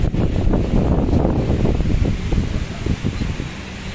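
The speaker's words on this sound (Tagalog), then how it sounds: "Lakas ng hangin" Strong wind on a beach at Boracay buffets the microphone with loud, rumbling gusts, and surf or rustling blends into the roar; no talking.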